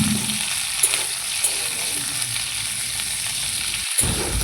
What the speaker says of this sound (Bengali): কড়াইতে তেল দিয়ে শিম আলু ভালো করে ভেজে নেব, একটু লবণ দিয়ে